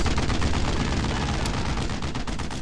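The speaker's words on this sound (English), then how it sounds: "Oh, that was a machine gun too." Dense, rapid machine gun fire rattles continuously in the WWII shooter Brothers in Arms: Road to Hill 30, loud and close, with overlapping bursts of gunfire.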